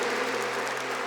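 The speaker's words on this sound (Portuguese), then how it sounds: "Pode aplaudir do fundo da sua alma, com toda a sua força" A church congregation claps during a Catholic Mass homily, a soft, distant wash of applause lasting about a second with no speech.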